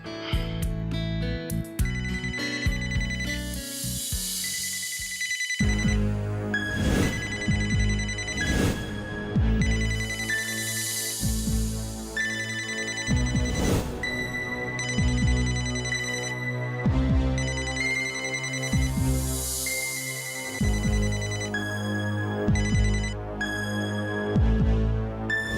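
A mobile phone rings on and on with a bright, looping melodic ringtone that repeats in steady cycles, loud and alone with no voices.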